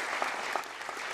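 An audience applauds a guest at a formal Senate ceremony, a short dense patter of many hands clapping steadily at moderate volume.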